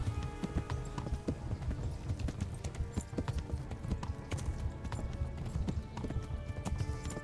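Horse hooves gallop in a fast, steady drumming rhythm in Kingdom Come: Deliverance, continuing throughout, close and prominent, with no talking.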